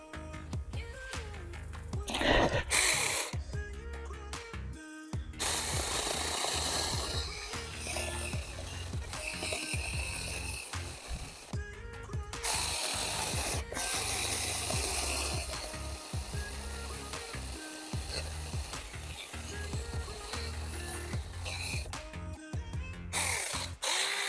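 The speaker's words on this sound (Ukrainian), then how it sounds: "пробуємо основний стовбур пиляти" A saw cuts through the main trunk of a tree outdoors, a steady, fairly loud rasping buzz that runs almost without break, with brief pauses and shifts in pitch as the blade works.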